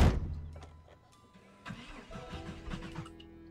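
Vehicle engine cranking and catching in the video game Project Zomboid, a short starter whir followed by a mid-pitched engine settling into a rough idle.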